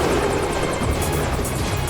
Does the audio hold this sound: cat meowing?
no